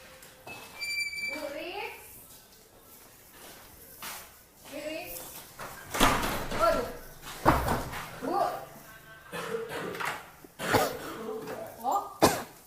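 Repeated coughs and throat clearing from a person sick with flu, several harsh bursts spread across the stretch, heard close amid background speech and household noise.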